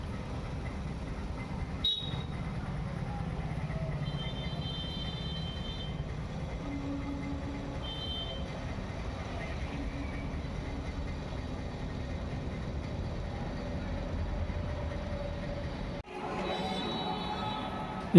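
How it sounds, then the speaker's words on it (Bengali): A DEMU passenger train rolls past a lowered railway level crossing, a continuous low rumble with faint rail squeals and clatter heard at a distance, a couple of knocks marking the passage. "রেলগেটটাও পড়ে গেল, শিলিগুড়ির সেই ফেমাস ডেমো ট্রেনটি যাচ্ছে।"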